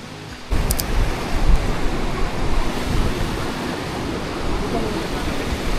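Rushing river water while tubing through Elora Gorge in Ontario, a loud, broad, continuous roar of flowing water that begins abruptly after a brief quieter moment, with a short high squeak near the start.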